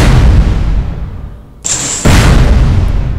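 A missile explodes in the space game Space Engineers: a loud, rumbling blast rolls on, dips, then two sharp bursts crack in quick succession, leaving a heavy roar. No voices.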